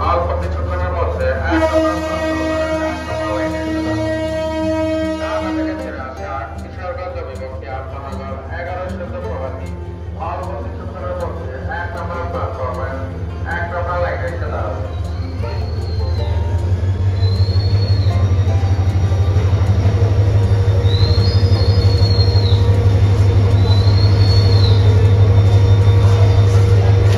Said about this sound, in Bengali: এরপরে কিন্তু আমাদের ট্রেনটি কিন্তু প্ল্যাটফর্মে ঢুকবে